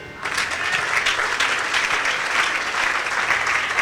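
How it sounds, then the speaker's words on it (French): A church congregation applauds and cheers loudly during a French-language charismatic service, a dense, steady wash of clapping that starts abruptly and continues without a break, with voices mixed in. "Acclame très fort, très fort,"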